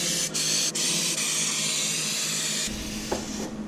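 Thin bedliner pre-soak coat sprayed heavily onto a boat's penetration areas, giving a steady, loud, close hiss of spray with a couple of brief breaks in the flow.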